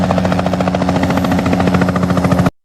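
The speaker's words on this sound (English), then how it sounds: "as the rescue helicopter arrived" A rescue helicopter's rotor thumps in a steady, loud, close pulse for a couple of seconds before cutting off abruptly.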